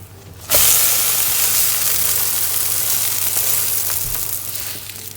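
Turkish stuffed flatbread brushed with oil sizzles loudly in a hot pan right after being flipped, a sudden burst of close hissing that holds steady and slowly eases.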